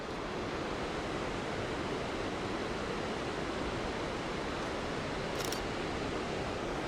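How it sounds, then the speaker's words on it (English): Skógafoss waterfall in Iceland, a steady, loud roar of falling water that fills the whole stretch without pause, heard close up with no talking. "So we have the waterfall going down in the front"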